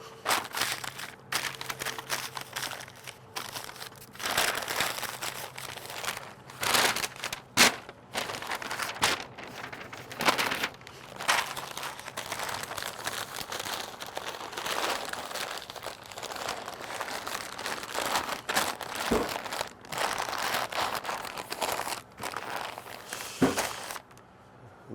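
Butcher paper or foil crinkling and crumpling as a smoked brisket from a pellet smoker is wrapped tightly, a long run of close, busy rustles and crunches in uneven bursts with no talking.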